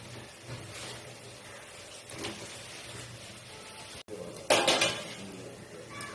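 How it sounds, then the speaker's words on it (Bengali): A metal lid set down on a pot after the gas is switched off, with a few soft clinks early, then a louder clattering clank of metal near the end, close and otherwise quiet. "এবার গ্যাসটা বন্ধ করে ঢাকা দিয়ে রাখছি"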